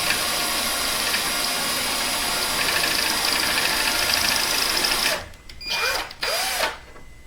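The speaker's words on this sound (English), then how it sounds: "the world's dullest drill bit" A power drill with a very dull bit whines steadily and loudly for about five seconds, then stops and briefly restarts in two short bursts, drilling into a custom-built ES-335-style guitar.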